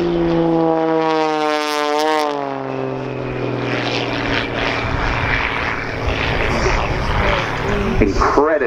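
An Xtreme Air XA41 aerobatic propeller plane performs at an airshow, its engine a loud continuous drone that rises and falls in pitch as it maneuvers overhead.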